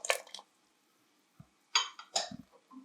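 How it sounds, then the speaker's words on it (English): Kidney beans go into a pot of boiling water for Afghani aash veggie noodle soup, giving a few short clinks and soft wet plops in separate bursts, fairly quiet and without speech. "Here I'm adding the kidney beans"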